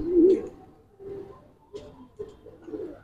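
Silver Military pigeons from a single loft coo in several soft, low, rolling calls spaced across a few seconds, close and clear with little else around.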